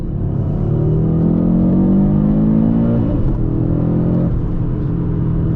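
A 2025 Audi RS3 engine pulls hard through the revs, a loud rising five-cylinder drone climbing toward the limiter before the pitch drops back and settles, with no voices over it.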